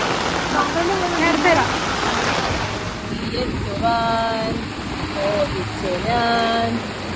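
Rain pouring outdoors at Malampuzha, a steady broadband hiss that runs throughout while voices talk over it.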